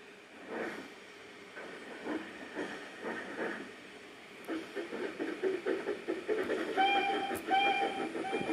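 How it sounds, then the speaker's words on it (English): A steam locomotive in the Trainz video game chuffs in steady puffs that quicken and grow louder, with hissing steam and short whistle toots near the end. "Then the driver pulled a lever, and Edward puffed away"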